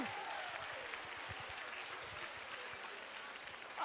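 Steady audience applause fills a charity luncheon auction hall as a bid reaches $25,000, dense and continuous throughout with a faint raised voice near the start.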